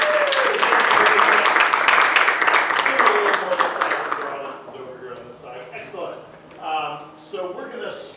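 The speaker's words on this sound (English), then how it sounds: "Give them a big round of applause." Audience applause greets improv comedy performers as they take the stage at a comedy workshop, dense and loud for about four seconds, then thinning into scattered claps as voices start talking.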